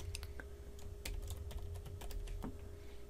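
A password is typed on a computer keyboard during setup of a Windows Server 2012 R2 virtual machine, giving a quick run of distinct, close key clicks at an uneven pace, with a steady background hum.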